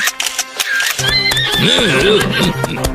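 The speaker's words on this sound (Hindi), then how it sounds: "कौन है ये जो सड़क पे घोड़े दौड़ा रहा है?" A horse whinnies loudly with rising and falling neighs over rapid hoof clatter on a road, close and busy throughout.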